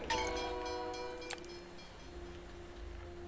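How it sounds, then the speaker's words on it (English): A train arrives in the video game SteamWorld Build, with a whistle-like tone at the start and a low rumbling rail sound that fades gradually, no one speaking. "Also, looks like a train's just arrived."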